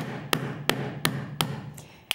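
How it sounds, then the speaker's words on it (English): A soft hammer, used instead of a steel one, strikes metal while making jewelry, giving five or six sharp, close, evenly spaced taps over a quiet background. "I always use a softer hammer rather than just a regular steel hammer because it'll distribute the weight a little bit better"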